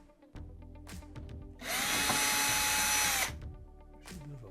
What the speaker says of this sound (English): Take out some of these 1/4-inch screws below the controller.